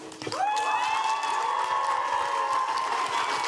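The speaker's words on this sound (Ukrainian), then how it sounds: "Оплески!" Audience applause at a youth forum, a dense steady wash of clapping hands filling the hall, with a sustained tonal ring or feedback-like tone riding over it.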